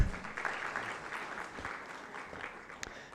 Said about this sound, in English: Can we clap for tourism?